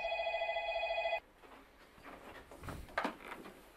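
A telephone rings in a televised crime documentary, an old-style electronic ring pulsing for about a second before cutting off, followed by quiet rustling and handling sounds.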